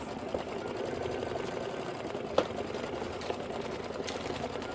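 Embroidery machine stitching a reindeer tote bag with Madeira thread, a continuous fast rhythmic whirring with a few small clicks, close and steady throughout.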